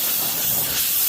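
Can of compressed air blasting dust out of a JVC AL-A155 deck, a loud, steady, close hiss filling the short burst.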